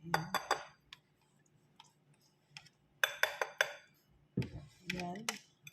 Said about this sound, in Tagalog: Mix natin para hindi siya magbuo-buo dito.